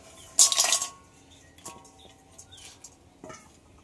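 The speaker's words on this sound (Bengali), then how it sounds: "এই কাঁকড়াগুলো সব কড়াইয়ের মধ্যে দিয়ে দেবো।" Sea crabs are tipped into a wok in a kitchen: a short, loud burst of hard shells clattering against metal, followed by a few faint, scattered clinks as they settle.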